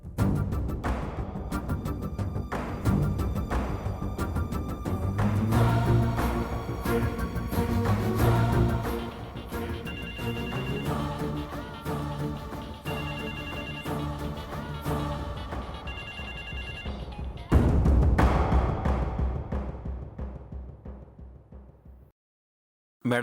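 A mobile phone left indoors rings with a repeating electronic tone that sits under a loud music score and is heard throughout.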